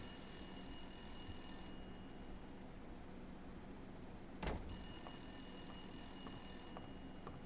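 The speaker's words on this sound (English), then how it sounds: "Or rather, Blacksad's phone singing." A phone rings in the detective video game Blacksad: Under the Skin, giving a bright, steady bell tone that pauses briefly and resumes, heard over a faint background hiss with a single short thump.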